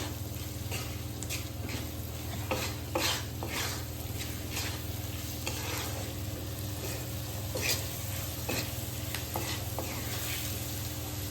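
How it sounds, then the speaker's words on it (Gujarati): Maize and millet flour with vegetables and spices is stirred in a hot pan over a raised flame, giving a steady close sizzle broken by repeated scraping strokes. "હવે બધી સામગ્રીને મસાલા જોડે મિક્સ કરી લઈશું સારી રીતે"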